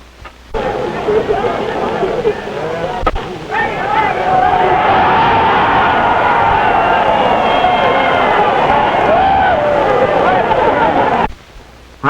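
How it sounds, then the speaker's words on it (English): Old recording of a New York baseball game crowd cheering a home run: a loud, continuous roar of many voices that swells and holds for several seconds before cutting off abruptly. "you'd be at a baseball game"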